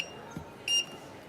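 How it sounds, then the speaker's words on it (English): A German-brand kitchen oven gives a single short, bright electronic beep while cooking, faint and alone against quiet room tone. "when I try to cook with that oven, it sounds like this"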